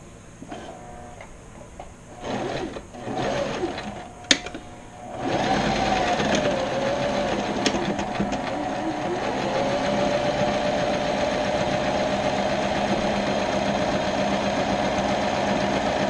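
A sewing machine sewing a hem on junkyard car seat upholstery: a few short stop-start bursts with a sharp click, then a long, steady, loud mechanical whirring run of stitching.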